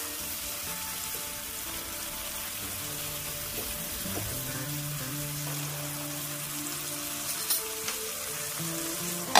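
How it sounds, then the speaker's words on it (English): Tomatoes fry in a simmering fish gravy of foli fish with a steady, close, rain-like sizzle and bubbling, a few soft stirring knocks, and a faint tonal hum underneath. "Now add the tomatoes to the gravy. Stir for a while."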